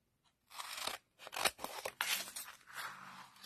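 Scissors snip through adhesive-backed craft paper for a sled craft in a series of close, crisp crunching cuts, with brief pauses between strokes and no talking.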